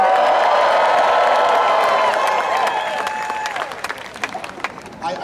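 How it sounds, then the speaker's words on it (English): A large outdoor audience at a Memorial Day concert in a cemetery roars, cheers and applauds loudly and steadily, then the cheering thins into scattered clapping and whoops. "let me hear a roar from the audience"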